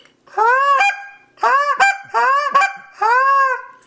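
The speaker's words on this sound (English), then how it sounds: "We're just playing around with a new Canada call." Short reed Canada goose call blown by hand, four loud honking clucks in a row with brief gaps, close and clear with no talk.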